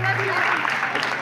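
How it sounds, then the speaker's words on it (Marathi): Brief burst of audience applause at a Home Minister women's game-show event, a dense steady patter of many hands with a voice speaking over it. "एकदा अध्यक्ष वहिनीसाठी जोरदार टाळ्या वाजवा"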